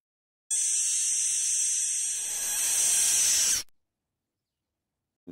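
A single long, breathy, strained hiss-like squeal from a black rain frog, lasting about three seconds, rising slightly before stopping abruptly.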